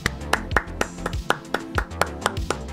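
A person claps in a quick, regular rhythm of sharp, close hand claps over steady background music during a football video game session.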